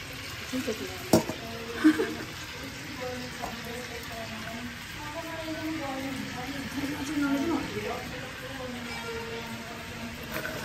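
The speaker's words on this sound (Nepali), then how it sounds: "यहाँ चाहिँ फ्राई गर्दै, यहाँ चाहिँ फ्राई भइसकेको मासु" Meat for a pickle (achar) frying in oil, a soft continuous sizzle with occasional stirring knocks, fairly quiet, while a person talks over it.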